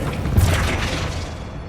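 A Flipendo spell cast in Hogwarts Legacy, giving a single short whooshing burst with a dull boom that fades out over about a second and a half, close and fairly loud.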